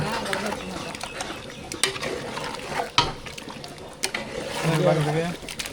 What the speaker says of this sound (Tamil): சிக்கன் லெக் பீஸ் சேர்த்தாச்சு இப்போ நல்லா கலந்து விட்டுலாம்